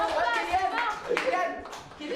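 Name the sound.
people applauding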